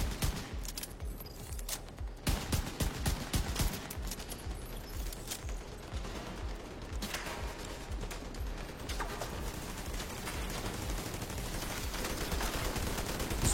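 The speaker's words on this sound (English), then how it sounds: "Gotta remember to use my pistol more." Rapid pistol gunfire in a video game, dense repeated shots in quick bursts with explosive impacts throughout, loud and continuous with no talking.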